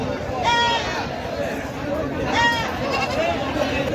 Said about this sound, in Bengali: যে আরও পাঁঠা আছে সুন্দর সুন্দর পাঁঠা